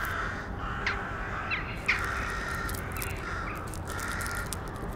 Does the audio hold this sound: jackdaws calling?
yes